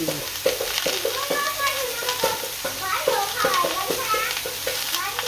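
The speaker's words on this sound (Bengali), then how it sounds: "হলুদের দিয়ে দিলাম নাড়াচাড়া দিয়ে নিই" Turmeric is stirred into food frying in a pan, with a steady sizzle under repeated rhythmic scraping strokes of a spoon, close and moderately loud. A faint voice is in the background.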